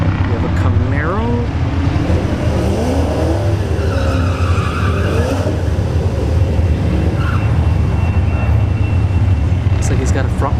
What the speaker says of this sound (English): It's a ZL1 Camaro